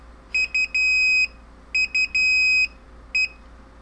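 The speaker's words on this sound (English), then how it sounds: "what you heard, was actually an alarm that I had set playing around." An Inkbird ITC-608T humidity and temperature controller alarm beeps in short high-pitched bursts, a few quick pips then longer tones, repeating in an irregular pattern close up.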